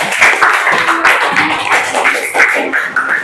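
Classroom applause for a student group that has just presented, a dense patter of clapping hands filling the room steadily from start to finish, loud and close.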